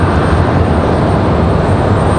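A Delta airliner passes at Raleigh-Durham airport, its engines giving a loud, steady, broadband roar that fills the whole moment close by, with no talking over it.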